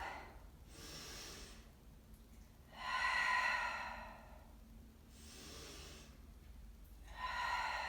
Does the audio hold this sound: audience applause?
no